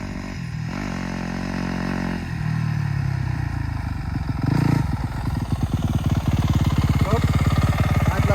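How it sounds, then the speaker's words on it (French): A motorcycle sits idling with a steady low rumble that shifts in pitch and grows into a rapid, rough chugging toward the end, close by and loud. "Arrête la moto."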